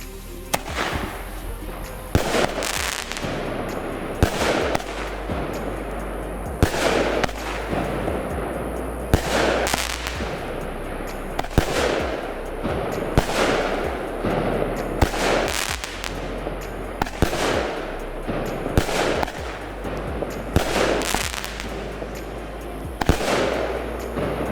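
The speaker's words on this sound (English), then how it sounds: "A 16-shot Armored by Pyro King." A 16-shot Armored fireworks cake by Pyro King fires in sharp repeated booms and crackling bursts at a steady pace, loud and outdoors, with scattered pops over a continuous rumbling wash of noise.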